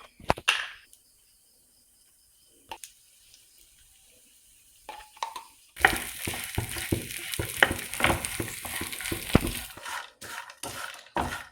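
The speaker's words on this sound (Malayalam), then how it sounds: "അപ്പോൾ നമുക്ക് കുറച്ച് നെയ്യ് ഒഴിച്ചിട്ട് വറുത്തെടുക്കാം." Chopped coconut pieces frying in ghee for unniyappam start with a few faint clicks and quiet pauses, then break into a loud, dense, crackling sizzle with sharp pops that keeps going to the end.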